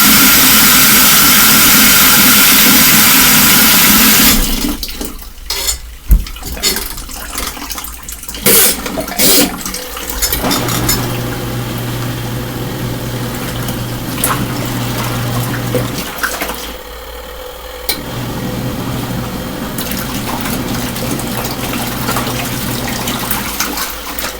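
An LG ThinQ MEGA washing machine on a normal cycle with cold wash and heavy soil fills with water; a loud rushing hiss opens, then gives way to steadier running water and a low motor hum with intermittent clunks.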